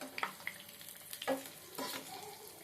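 Mirchi bajji frying in hot oil, a soft sizzle broken by clinks and stirring scrapes of a utensil, close and fairly quiet.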